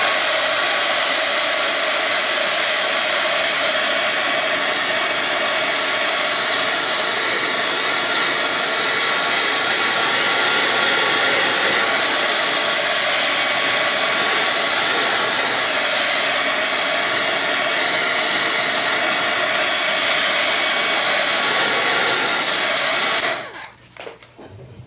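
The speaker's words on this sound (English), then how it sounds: "I'm going to do my heat gun over this just real briefly" A heat gun blows over a surface in a loud, steady whooshing roar that holds for over twenty seconds, then cuts off abruptly near the end.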